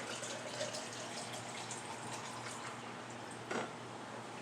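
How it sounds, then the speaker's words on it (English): A soft, steady stream of water pours continuously, fairly quiet and close, with a small knock near the end. "I'm getting my 24 ounces of water."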